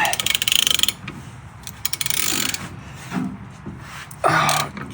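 A 1/2-inch socket wrench ratchets while working on the handbrake cable of a Porsche 356 during transmission removal, producing rapid, close, metallic clicking bursts with short pauses and some rubbing in between.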